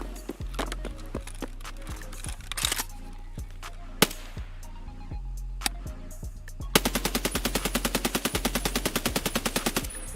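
Gunfire with US ammo in the video game Escape from Tarkov: a run of sharp single shots with pauses between them, then a rapid sustained automatic burst near the end.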